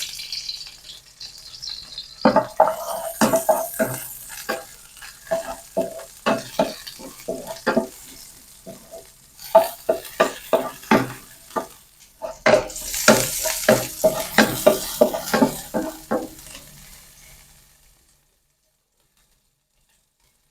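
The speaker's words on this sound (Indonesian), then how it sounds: "Sekarang kita lanjut tumis bawang merah, bawang putih." Shallots and garlic sauté in a little oil in a pan, with steady sizzling and a quick series of scraping, clacking stirs that come in bursts for about seventeen seconds before stopping into silence.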